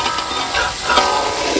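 Spicy mint chicken legs sizzle loudly in a pan while being stirred, a dense, continuous frying hiss close up with faint scraping movement throughout.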